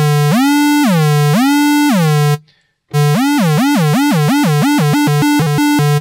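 Synth notes from the JST Sub Destroyer plugin, played with heavy portamento, glide smoothly up and down between pitches in loud, sustained tones, with a brief silent gap before a faster run of sliding notes.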